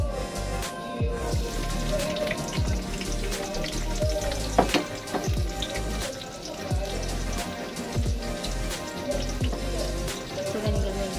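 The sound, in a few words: onion and garlic frying in hot oil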